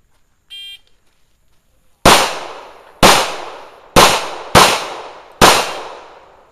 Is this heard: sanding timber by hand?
no